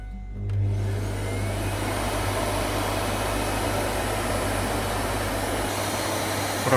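A Bosch vacuum cleaner runs with its rear filter removed, starting with a rising whine and then holding a loud, steady roaring hum close by throughout.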